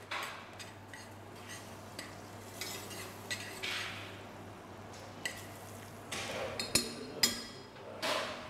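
Butter melts in a pot for carrot soup with a faint sizzle, while a utensil stirs and scrapes against the pot in repeated clinks and scrapes that grow busier toward the end; no one talks.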